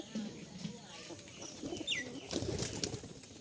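Pigeons coo softly and wings flap briefly nearby, with some background noise around them.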